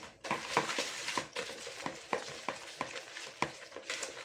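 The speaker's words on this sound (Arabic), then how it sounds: "صافي هنايا غادي نبدا نخلط هاد المكونات." Banana cupcake batter ingredients with a pinch of salt being mixed in a bowl, giving a steady run of soft scraping strokes with sharper clicks at irregular intervals, close and moderately loud with no talk.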